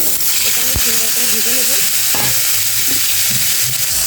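Chopped tomatoes go into hot oil in which chilies were just fried, giving a loud, constant sizzle with a few soft stirring knocks.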